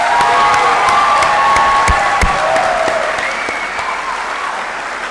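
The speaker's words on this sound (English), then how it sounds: "Let's give them a big round of applause." A ceremony audience applauds a graduating associate degree nursing class at a 2024 pinning, loud sustained clapping with some cheers and shouts mixed in, tapering slightly toward the end.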